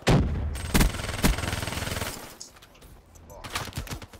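SMG fire in Black Ops 3 on the Nuketown map comes in several sharp, rapid bursts, loud and close at first, then quieter rattling shots trailing off before a final flurry.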